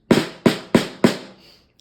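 Four sharp snare drum hits with the snares engaged, evenly spaced and close, each with a bright crisp rattle that decays quickly, the last one ringing out into a faint buzz.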